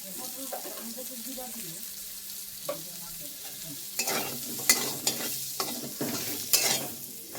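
Food with salt and turmeric being stirred in a pan, starting as a soft sizzle and then giving way to a run of loud scraping strokes in the second half.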